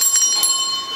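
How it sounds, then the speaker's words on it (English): A small bell rings with bright, high metallic tones that linger and fade slowly across the moment, fairly close and clear. "We've got a little bell."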